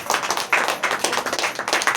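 A church congregation claps together in a dense, steady burst of applause, close and lively, with faint voices mixed in.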